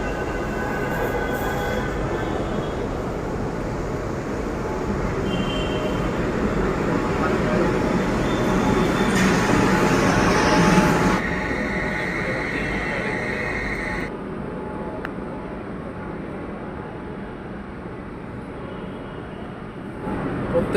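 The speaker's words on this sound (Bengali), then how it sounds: "এখন মেট্রো আসলো।" A Kolkata metro train rolls into a station, a loud sustained rumble and rush that swells, then eases as it slows, with tonal whines and a beep as it comes to a stop.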